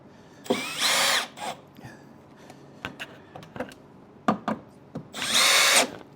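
Power drill driving bolts through Next Venture Motorsports corner armor, two loud sustained whirring bursts with clicks and handling knocks between them, close up and without talking.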